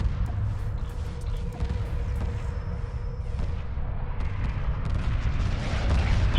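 Weapon fire and rumbling booms from a space battle in a strategy video game involving ion cannon frigates and a strike group, a dense, continuous low roar of distant blasts.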